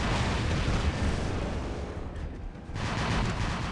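Robot weapons in the War Robots game fire in a dense, continuous barrage of booming gunfire and blasts, loud and close, dipping briefly before surging again.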